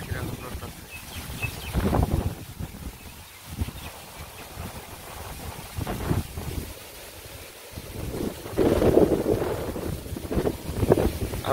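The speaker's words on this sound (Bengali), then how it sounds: "এমন বাতাস উঠছে, মানে জোরে বৃষ্টি হওয়ার সম্ভাবনা আছে" Strong gusty wind buffeting outdoors in a village before rain, roaring in surges that swell and fade, with trees shaking and some talk mixed in.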